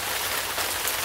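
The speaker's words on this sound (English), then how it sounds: "Oh no! It's raining big!" Heavy rain pours down in a dense, steady hiss of drops on surfaces, loud and unbroken throughout with no voices.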